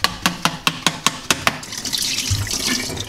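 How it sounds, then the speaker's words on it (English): Water runs into and sloshes around a Hario Mizudashi cold brew maker as it is rinsed out, starting with a series of knocking taps and then settling into a steady, close splashing flow with no talking. "Just give it a nice rinse."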